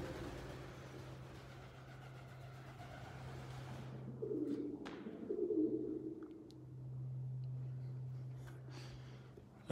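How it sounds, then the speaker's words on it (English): Pigeons coo softly inside an abandoned convent, low throaty calls rising for a few seconds over a steady hum, faint and echoing with no talk. "Can you hear all the pigeons?"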